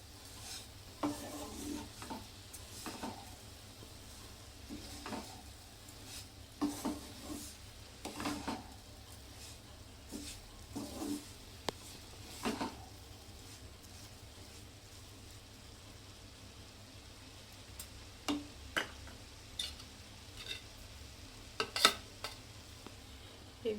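Carrot halwa with sugar being sautéed in a pan, heard as quiet, intermittent scraping stirs and soft clinks over a faint low sizzle, with no talking.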